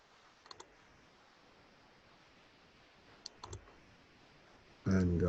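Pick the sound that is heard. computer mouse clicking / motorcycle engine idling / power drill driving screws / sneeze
computer mouse clicking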